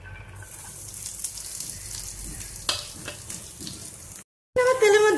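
Chopped ginger, garlic and cashews fry in hot oil in a pan, a steady close sizzle with a few stirring scrapes, broken by a brief silence before a louder burst of frying.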